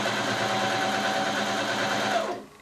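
A sewing machine runs a quarter-inch seam in one continuous close, whirring burst of rapid stitching for a couple of seconds, then stops abruptly, leaving near quiet.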